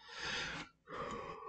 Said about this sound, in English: Don't know why I got yawning today.